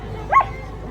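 A dog out on a walk gives a single short, thin yelp-like bark in the middle, fairly faint over a low background hum.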